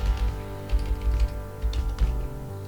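A computer keyboard gives soft, irregular clusters of key clicks over a steady low hum, close and moderately loud.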